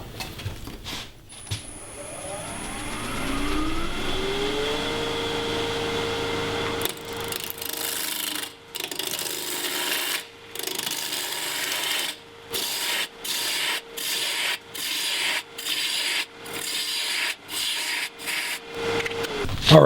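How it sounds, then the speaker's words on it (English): A roughing gouge cuts a spinning wood blank held in a lathe chuck, first a steady scraping hiss as the gouge rides the surface, then repeated rhythmic passes that break into short, close cutting bursts. "I'm just going to use a roughing gouge and get it true."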